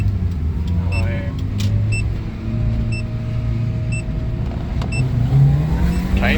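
A car pulls away in first gear with turbo boost, its engine note rising under steady road rumble, with a repeating electronic chime ticking once a second throughout.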